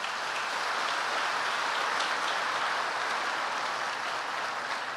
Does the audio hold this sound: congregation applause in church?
yes